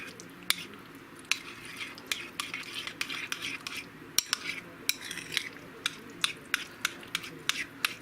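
Homemade salsa ingredients being mixed in a bowl with a utensil: a run of light, regular clinks and scrapes against the bowl, moderately close, with a quiet wet stirring texture underneath and no talking.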